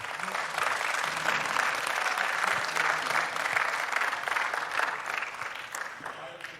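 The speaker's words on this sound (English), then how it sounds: "would you give Eric, the sound guy, a round of applause?" Audience applause at a senior night school concert, a dense steady wash of many hands clapping that holds for several seconds before easing slightly at the end.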